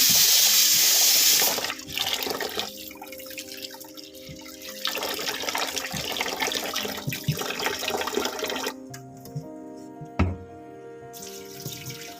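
White urad dal is washed in water in a bowl, with running water pouring and splashing loudly at first, then swishing, sloshing and dripping as the lentils are rinsed, close by and without talk.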